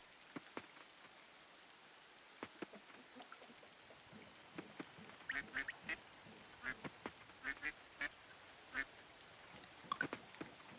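Repeated short duck quacks from the video game Coral Island, a dozen or so scattered calls in an irregular rhythm over a soft rain-like background hiss, fairly quiet with no voices.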